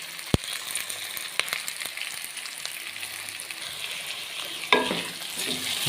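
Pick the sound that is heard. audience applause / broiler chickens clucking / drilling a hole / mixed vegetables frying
mixed vegetables frying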